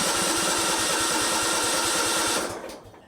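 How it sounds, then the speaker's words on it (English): A lawn equipment engine cranks over with the choke on but fails to start, a fast rhythmic churning drone close by that cuts off abruptly near the end. "it definitely has enough to turn over all right, but it should have fired by that point with the choke on"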